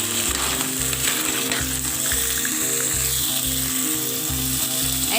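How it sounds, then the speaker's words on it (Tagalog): Clams (imbao) sauté in a hot pan, a dense continuous sizzle with rhythmic scraping and stirring knocks repeating about twice a second, close and steady with no talking. "gisahin na natin yung clamshell or imbaw"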